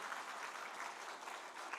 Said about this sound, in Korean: 우리 다시 한번 뜨거운